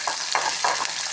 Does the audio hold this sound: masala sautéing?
yes